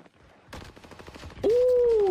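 Rapid gunfire in Call of Duty Warzone, a close burst of fast shots running steadily, joined midway by a loud sustained whining tone over the continuing fire.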